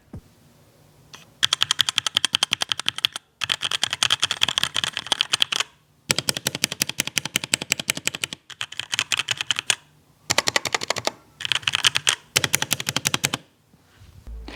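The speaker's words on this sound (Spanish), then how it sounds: "ahora vamos a probar el sonido de las teclas y los switch red de HyperX a ver qué tal suenan." Fast typing on a HyperX Origins 60% mechanical keyboard with red switches: close, crisp, rapid keystroke bursts separated by brief pauses, with no voices.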